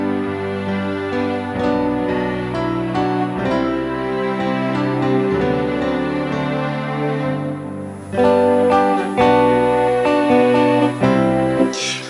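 An acoustic guitar with a Fishman Triple pickup plays a riff, steady strummed chords with accented notes, loud and close with no talk.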